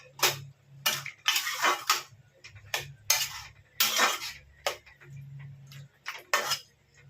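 A plate that held fried pointed gourd is rinsed with water in a home kitchen, giving a string of clattering, splashing bursts with short pauses between them, close by and with no talking.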